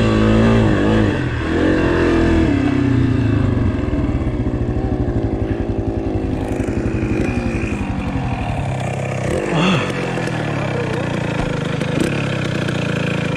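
A 1982 Yamaha IT 175cc two-stroke dirt bike and a 2021 Honda CRF 250F four-stroke climb a dirt track, engines loud and close with steady revving throughout, rising and easing as the bike works uphill.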